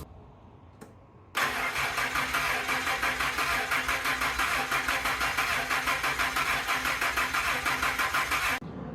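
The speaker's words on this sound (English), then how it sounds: "I'm gonna try and crank over the engine." An inexpensive old truck's engine is cranked over by the starter with the throttle held down, giving a steady, rapid, rhythmic churning that runs loud and close for about seven seconds, then stops without firing.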